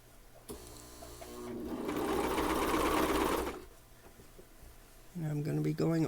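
Coverstitch sewing machine stitching over a shoulder seam on a neckband, a steady close mechanical whir that builds for about three seconds then stops, followed by a voice talking.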